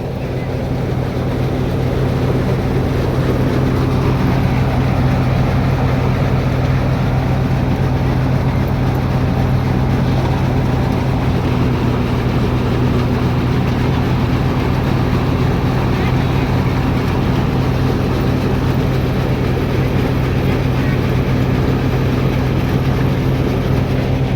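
A tractor engine runs during a groundnut harvest, making a loud, continuous, low drone with no break for the whole stretch.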